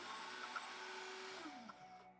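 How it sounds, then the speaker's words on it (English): A faint blender motor whirring steadily while puréeing cauliflower, its pitch dropping near the end as it winds down, heard at a distance. "just blend it up until it's smooth"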